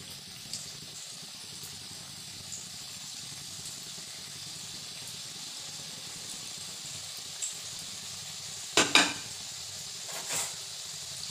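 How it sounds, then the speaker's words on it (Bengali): Singaras (samosas) deep-frying together in a batch of hot oil give a steady, close bubbling hiss throughout, with a few brief clinks and knocks near the end. "এই যে এবার ভেজে নিই, চলো।"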